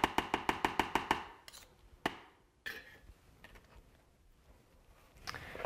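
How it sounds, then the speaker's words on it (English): A spoon clacks rapidly in a bowl, about nine quick sharp knocks in a row, then a few scattered taps and soft scraping and stirring as peanut butter is worked into a crumbly flour mixture, fairly quiet and close, with no talk. "next thing we're gonna wanna do is now mix this all up"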